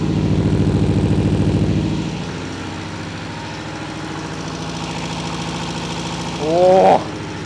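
A Cosworth engine, run on a test stand without its radiator connected, idles steadily with a loud, lumpy pulsing beat that eases slightly after a couple of seconds, then briefly rises in a short rev near the end.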